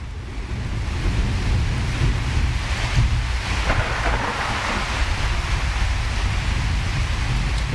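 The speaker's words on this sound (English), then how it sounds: "Well, it sounds like rain." Steady, dense rain falls in the game Prologue: Go Wayback!, a broad continuous hiss with a low rumble underneath that holds at an even level throughout, with no voices.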